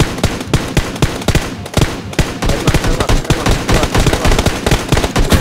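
Gunfire in the PUBG Mobile video game: loud, sustained bursts of rapid automatic fire, close and continuous throughout, with no other sounds standing out.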